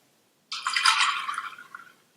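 A short pour of water into a pressure cooker holding toor dal with asafoetida and turmeric powder, one soft splashing burst lasting about a second and a half, close and alone.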